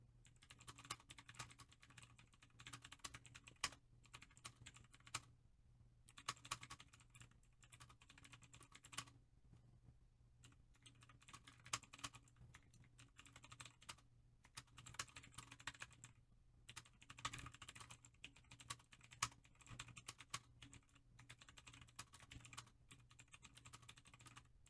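Steady, quiet typing on a computer keyboard, with rapid clustered keystrokes in bursts separated by short pauses, close and alone with no talking.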